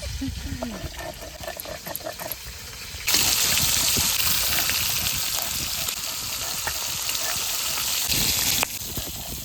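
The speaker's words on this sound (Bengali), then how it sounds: "যা তেল ফুটছে মনে হচ্ছে কানা হয়ে যাবে তোমার" Big rohu fish head frying in spitting oil: a loud, harsh hiss of sputtering surges in and holds for several seconds before dropping back, with some talk and kitchen clatter around it.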